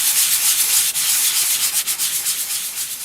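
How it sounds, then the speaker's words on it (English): Steady abrasive rubbing of sandpaper on a dried Das clay plaque, continuous and close, with a slight rhythmic back-and-forth texture and no talking. "So I'm just going to finish the sanding of this"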